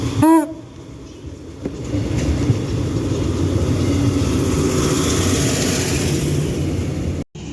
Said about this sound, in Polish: Rusza do Tucholi skład.